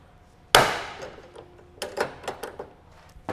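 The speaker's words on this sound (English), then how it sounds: "Go ahead and install our second rivet as long as everything looks good." A rivet set into a strutless wing on a Fox Body Mustang, one sharp loud impact followed by a series of lighter clicks and taps spaced irregularly, close by with no talking.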